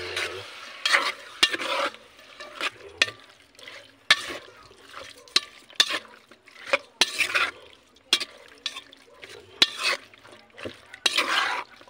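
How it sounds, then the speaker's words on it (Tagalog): Meat is stirred in a cooking pan, with repeated sharp scraping strokes over a soft sizzle, close and irregular, and no one speaking. "Haluin natin, haluin. Yung ating karne mga idol."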